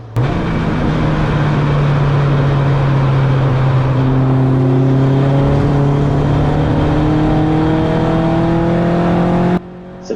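Race car engine in a turbo touring car at Donington Park, held at high revs near the rev limiter, then rising steadily through the next gear. The tone is loud, close and continuous, and it cuts off sharply at the end.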